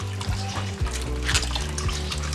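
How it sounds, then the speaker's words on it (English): Warm water runs and sloshes as soy mince is rinsed, a close, continuous splashing and trickling with a faint tonal hum underneath. "I prefer just adding the warm water and just rinse it out really good"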